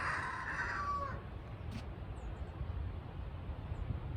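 A rooster's crow ends in a loud, close, drawn-out final note in the first second, then gives way to a steady outdoor background hiss.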